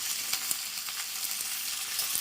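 Turmeric and a pinch of asafoetida hit hot oil in a pan, giving a soft, even sizzle with a few faint crackling pops close by.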